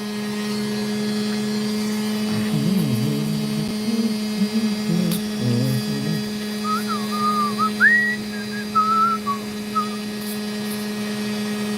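Someone whistles a wandering tune over a steady electrical hum, the notes rising higher in the second half, with no talking.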